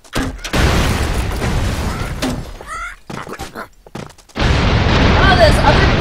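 Bomb blasts in the video game BootForce, several heavy booms and thunks going off in bursts amid loud game noise, with a player talking excitedly between them.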